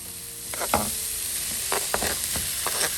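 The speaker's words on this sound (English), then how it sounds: "Once the onions and peppers are sauteed, we're going to add in our chicken." Chicken pieces are stirred into sauteed onions and peppers in a hot pan, giving a steady close sizzle broken by a few scraping utensil strokes.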